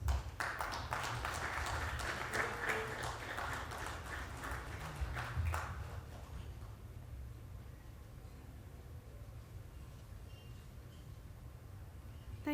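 Audience applause at a report launch during a UK-India workshop: dense, loud clapping for about six seconds, then it dies away into quiet room murmur.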